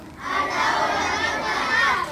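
A raucous uproar of many voices shouting and yelling together, portraying demons making a commotion at a sage's hermitage sacrifice in a Ramayana tale. The din is dense and sustained at a moderate level for about two seconds.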